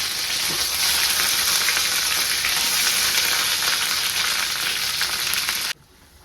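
Ground onion, tomato and coconut masala paste hits hot oil seasoned with mustard seeds and curry leaves, giving a loud, continuous sizzle that cuts off abruptly near the end.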